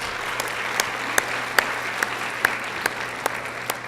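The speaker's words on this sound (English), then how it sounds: "Let's give him a round of applause" Steady audience applause at a city State of the City event greets a singer, a dense wash of clapping with a few louder individual claps standing out, held evenly throughout with a low hum beneath.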